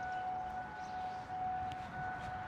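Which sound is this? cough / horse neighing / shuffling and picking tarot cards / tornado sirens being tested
tornado sirens being tested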